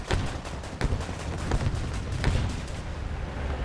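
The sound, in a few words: tank gunfire from the video game War Thunder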